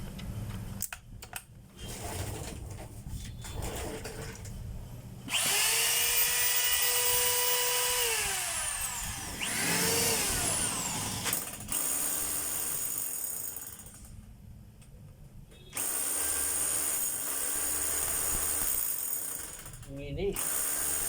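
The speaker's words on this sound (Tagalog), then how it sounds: "Siyempre, test din natin yung hammer" A rotary hammer drill, newly fitted with a replacement cord, switch and cord protector, runs in several loud bursts with whining spin-up and spin-down between short pauses.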